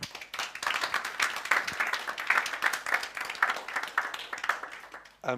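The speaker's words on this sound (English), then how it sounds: "let's give another round of applause" Applause from an audience after a talk, a moderate crowd clapping at fairly close range with uneven, pulsing intensity that gradually eases off.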